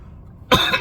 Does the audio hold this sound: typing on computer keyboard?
no